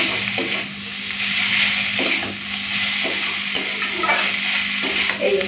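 A spoon scrapes and stirs fish curry in a pan with a steady sizzle underneath, the scraping strokes coming in a loose rhythm, close and clear without talk.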